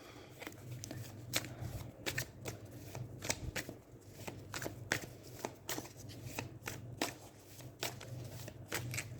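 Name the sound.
shuffling tarot cards for a reading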